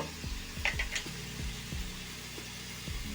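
Curry leaves dropped into hot oil for a spicy crab curry, giving a steady close sizzle with a few stirring scrapes and light clinks of a utensil against the pan.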